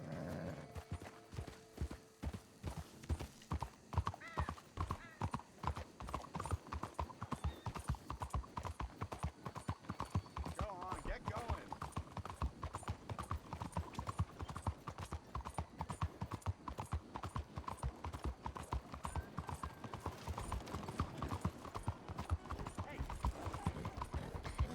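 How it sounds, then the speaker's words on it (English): Horse hooves clip-clop steadily on a street in the 1800s Western video game Red Dead Redemption 2, a dense continuous rhythm of several horses and carriages, fairly close, under occasional talk. "It's really interesting to me seeing all these horses and carriages around."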